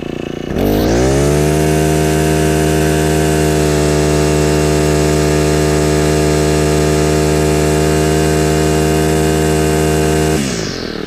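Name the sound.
Husqvarna 224L string trimmer engine at full throttle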